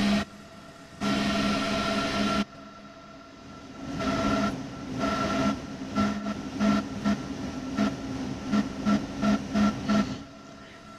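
An electric locomotive, a class 101 in a train simulator game, hums and whines as it drives, with bursts of hissing noise and a rhythmic series of rail clicks, close and steady.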